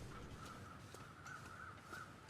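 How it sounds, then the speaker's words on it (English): Crows cawing in the snowy wilderness of the survival game The Long Dark, several harsh calls spaced across a steady windy ambience, moderately distant and alone with no talk. "We've got crows to the left and right that we know about over the dead guys."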